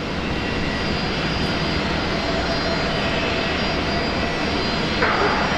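A Qantas Boeing 787 at Brisbane Airport roars with a steady broadband jet engine rumble, sustained and fairly loud, with faint talk in the background.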